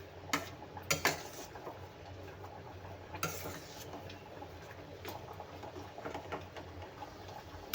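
Semolina sheera (halwa) being stirred in a pan with a spoon, giving soft scraping and occasional sharp clinks of metal against the pan, close and fairly quiet with no talking.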